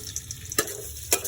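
Ginger sautéing in hot used oil for adobong octopus, a steady close sizzle broken by two sharp scraping stirs of a spatula against the pan.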